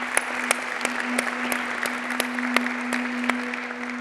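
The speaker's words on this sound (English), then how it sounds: "I think she deserves another round of applause." An audience at the UNCTAD Women in Business Awards 2018 ceremony claps steadily, with sharp individual claps standing out over a thinner background of applause and a constant low hum in the room.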